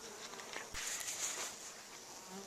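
Honey bees swarm close around a beekeeper's face during a cleansing flight, their buzzing a steady whine that swells as individual bees pass near, fairly faint overall.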